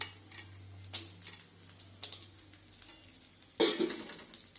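Garlic and red chillies fry gently over a low flame, a faint sizzle under soft stirring scrapes and a sharper clatter of a spoon against the pan near the end.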